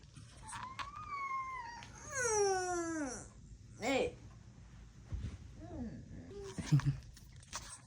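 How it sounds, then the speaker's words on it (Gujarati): A tired dog lets out high, thin whimpers like a puppy that rise and fall in drawn-out whines, followed by a few shorter yelps, close by and otherwise quiet. "અહીં જો ગલુડિયાનો જેવો અવાજ આવે છે"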